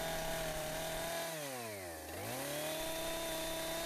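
A chainsaw cuts flat wedges into a wooden fence brace post. It runs loud and continuous, its engine pitch dropping as the chain bites into the wood, then climbing back to a steady high whine.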